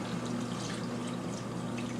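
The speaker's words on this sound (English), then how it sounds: "Now I fill it with water so that everything's covered." Water pours steadily into a pot of green chile stew ingredients until they are covered, a continuous rushing gush with a low hum beneath, close and unbroken for the whole stretch.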